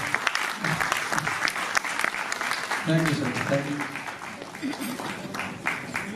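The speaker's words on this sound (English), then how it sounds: "And please, a round of applause for" Audience applause at a musical night for a single launch, dense steady clapping from a crowd filling the space while someone speaks briefly over it near the microphone.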